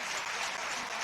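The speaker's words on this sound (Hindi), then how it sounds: "जरा बाहर के लोग तालियां बजा दीजिएगा।" An audience claps in a dense, even burst of applause, heard briefly at moderate volume with no voices standing out.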